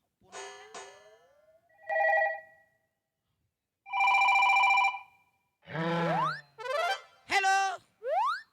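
A telephone rings in a comedy sketch, sounding as several separate electronic ring bursts with short gaps between them. Harsher tonal sweeps fill the later bursts, and no one talks over it.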